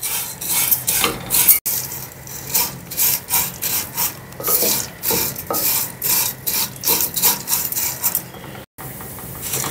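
Vermicelli (seviyan) roasting in a pan is stirred with a spoon, giving repeated close scraping and rustling strokes in an uneven rhythm, with no talk.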